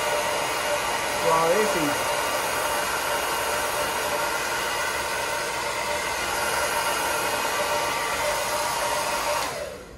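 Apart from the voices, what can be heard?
hair dryer blowing hair upward while styling a hair prosthesis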